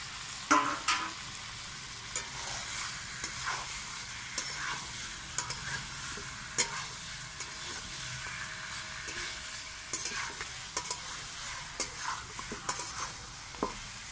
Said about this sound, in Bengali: এবারে আলুগুলো দিয়ে খুব ভালোভাবে আরেকটু কষিয়ে নেব।